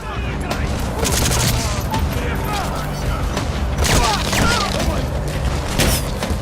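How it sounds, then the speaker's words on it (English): Gunfire in the Metal Gear Solid V: The Phantom Pain demo, loud booming shots and crackling bursts over a dense, roaring battlefield mix with someone talking over it. "Another nice shot there by Quiet."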